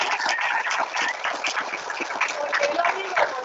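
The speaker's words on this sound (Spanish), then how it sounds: "me gustaría que le demos un aplauso" Steady audience applause fills the room for a mentor at a climate change educational event, a dense, even patter of many hands clapping close by throughout.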